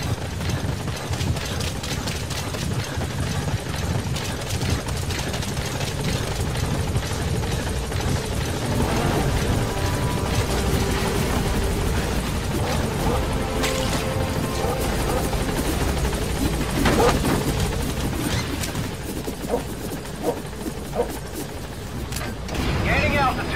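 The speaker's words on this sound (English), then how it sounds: "Support helicopter has arrived." Support helicopter in the video game Metal Gear Solid 5, a dense steady rotor roar and mechanical whine held throughout, with game radio voices talking over it.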